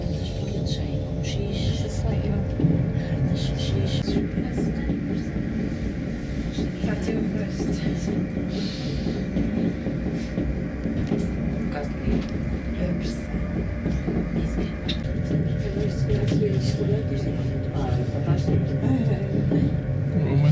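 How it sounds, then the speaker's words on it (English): Steady rumble and mechanical rattle of a funicular railway car in motion climbing a hill in Porto, Portugal, continuous throughout with faint chatter in the background. "we're going on the funicular up to the top of the hill"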